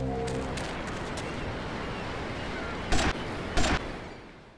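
Gunfire in the video game GTA Vice City, two short loud bursts of shots over a continuous noisy game background with no talk.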